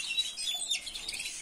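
Small birds in an aviary give quick high chirps and tweets, a brief busy burst of several overlapping calls at moderate distance with no talking.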